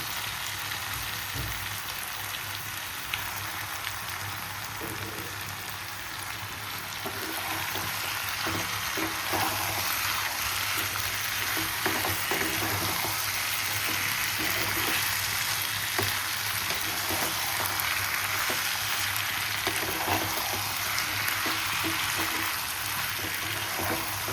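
Chicken pieces sizzle and fry steadily in a hot pan for homemade chicken pulao, a dense continuous crackle that holds at a constant, fairly loud level throughout, with no voices.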